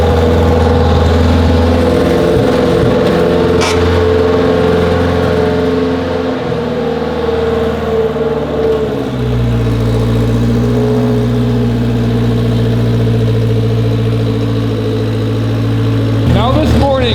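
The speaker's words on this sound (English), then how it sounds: "Cold start. The fuel pump in this thing is so loud." A Honda Civic with all-wheel drive idles steadily after a cold start, a loud fuel pump whining over the low engine hum; the idle drops to a deeper, even note partway through, with a brief blip near the end.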